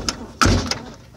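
Door shut with a single solid thunk close by, preceded and followed by faint light knocks and brief rattling.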